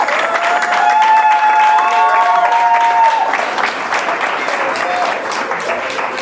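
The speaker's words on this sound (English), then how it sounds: "Let's give him a round of applause." An audience at a professional conference in Nigeria gives a round of applause to welcome a guest to the table, a sustained, fairly loud wash of clapping from many hands that tapers slightly toward the end.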